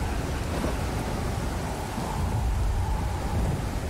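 A stormy sea in the game Stranded Deep gives a continuous roar of rain and rumbling thunder, loud and unbroken throughout, with no voices.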